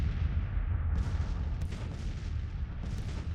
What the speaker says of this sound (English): We just want to keep our heads down from the artillery